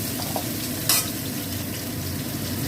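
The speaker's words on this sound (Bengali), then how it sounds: "এই পেঁয়াজটাকে দিয়ে এই বেরেস্তা করে নেবো, বেরেস্তা ভেজে নেবো।" Onions fry lightly in hot oil for crispy fried onions, with a dense, steady crackling sizzle close by and one brief hissing flare partway through.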